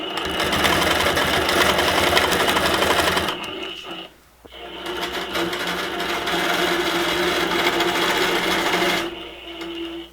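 A longarm quilting machine stitches binding onto a quilt with a steady, close, loud mechanical whir, pausing briefly near the middle and cutting off just before the end.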